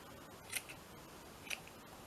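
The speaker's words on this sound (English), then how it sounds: "Let me just cut these pieces off" Scissors snipping pieces from a lace dress, two faint, crisp snips about a second apart against a quiet room background, nobody speaking.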